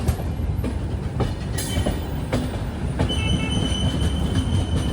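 The Rapti Sagar Express arriving at Coimbatore station rumbles and clatters along with high, drawn-out metallic wheel squeals, loud and close, with no voices.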